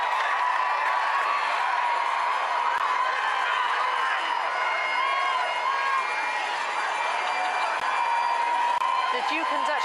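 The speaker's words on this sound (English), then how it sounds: "They're eliciting the biggest cheer yet from a crowd of several hundred packed behind their barriers" A crowd of several hundred packed behind barriers cheers the Duke and Duchess of Cambridge at a royal wedding, a steady distant roar of voices and whoops with a commentator talking over it.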